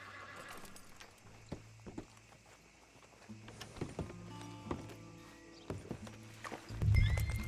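Horse hooves clip-clop at a riding pace in the video game Red Dead Redemption 2, a steady rhythmic trot at moderate distance, ending with a louder snort and whinny near the close.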